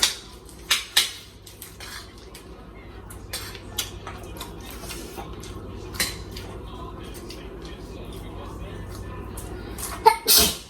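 A single sneeze bursts out against a busy kitchen backdrop of clinking dishes and cutlery, with a few sharp clatters scattered throughout.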